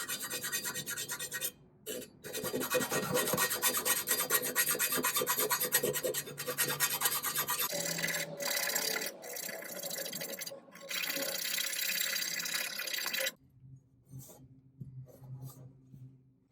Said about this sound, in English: Look at all that rust on this cement mixer. Comes right off with the file.